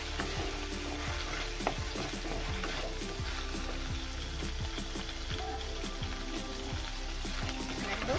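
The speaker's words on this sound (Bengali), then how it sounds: "এবারে আমি বেটে রাখা জিরে আর বেটে রাখা আদা দিয়ে দিলাম। এবারে খুব ভালো করে দেখো নেড়ে নিচ্ছি।" Ground cumin and ginger paste sizzles steadily in hot oil while being stirred, a dense, continuous crackle with occasional scraping of the spatula, close and fairly loud, no talking.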